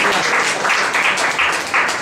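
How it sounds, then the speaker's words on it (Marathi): Audience applauding at a Marathi felicitation event, a steady dense wash of clapping with slight swells, sustained throughout without talk. "आणि टाळ्या वाजत राहतील"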